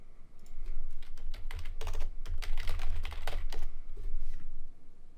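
Rapid, steady typing on a computer keyboard, close and fairly loud, a dense run of key clicks with brief pauses and no talk.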